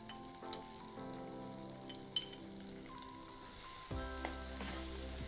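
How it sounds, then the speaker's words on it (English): Garlic and chopped onion sauté in a pan, a soft, steady sizzle and crackle with occasional stirring scrapes, quiet and close, growing slightly louder toward the end, with no talk and a faint tonal hum beneath. "We will saute the garlic until soft."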